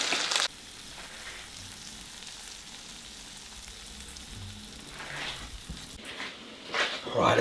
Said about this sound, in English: That is sizzling, lovely.